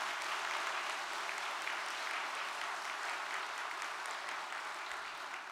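A church congregation breaks into big applause of thanks and encouragement, dense sustained clapping from many people, even and unbroken throughout with no talking.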